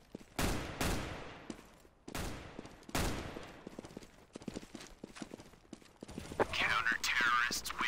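Gunfire in the first-person shooter CS:GO, a few sharp loud bursts and single cracks spaced apart, followed by quieter clicks and clatter, with a voice speaking near the end.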